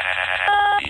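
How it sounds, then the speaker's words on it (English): An incoming call tone from a phone, a short electronic buzz that shifts to a higher pitch partway through, loud and close, lasting about one second with no talking. "Wait, I'm getting another phone call?"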